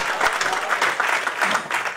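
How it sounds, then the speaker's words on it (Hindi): An audience at a kavi sammelan claps steadily, a dense, fairly loud burst of applause with no break. "आपकी तालियां मिलें।"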